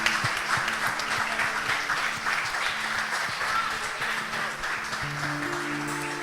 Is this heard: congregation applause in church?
yes